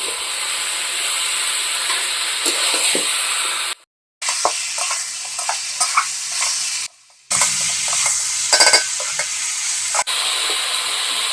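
Potatoes and young jackfruit stir-fried in a pan for a prawn curry, a loud continuous hissing sizzle broken by two brief silent gaps, with scattered stirring knocks throughout.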